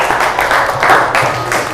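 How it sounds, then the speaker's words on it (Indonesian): Applause from students in a school classroom, a steady dense patter of clapping that holds at one level throughout, fairly close and moderately loud with no voices over it. "Tepuk tangan dong untuk kita semua."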